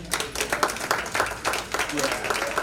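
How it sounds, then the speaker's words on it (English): An audience claps for the chairman at a meeting, an uneven burst of hand claps with voices talking over it throughout. "Please clap for our chairman"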